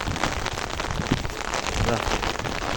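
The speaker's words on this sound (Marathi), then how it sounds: "पाऊस आला अचानक" Steady, dense rain pattering on a surface in the Konkan countryside, a continuous wash of drops with no voices, close and moderately loud throughout.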